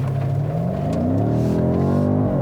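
A 2018 BMW M5 sports sedan engine drones steadily as it revs and climbs in pitch, heard from inside the cabin with a muffled, subdued tone.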